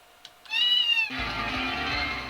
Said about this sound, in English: What's the cat noises?